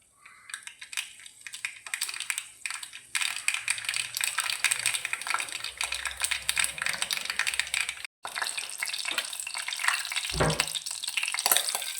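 Fenugreek and mustard seeds spluttering in hot oil for a fish curry, dense rapid crackling pops close up, briefly pausing once then resuming with sharp bursts.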